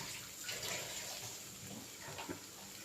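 Faint, steady splashing of water being poured into a pot of vegetable soup, a soft continuous trickle with no talking.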